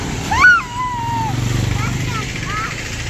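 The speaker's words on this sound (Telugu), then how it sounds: "ఆటో సౌండ్ ఇగ్నోర్ చేయండి." An auto rickshaw engine rumbles close by with a steady, pulsing throb on a street near a small supermarket during an evening walk, running under continuous talking.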